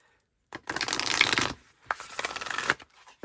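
A chunky mass market oracle deck is riffle-shuffled in two quick bursts of papery card rustling, close and fairly soft, separated by a short pause.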